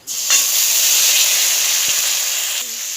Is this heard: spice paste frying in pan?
yes